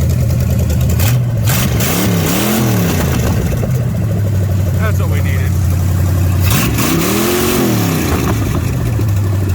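A big Mopar 440 V8 engine in a motorhome idles with a loping rumble, then revs up twice in rising and falling surges; a person speaks briefly over the engine.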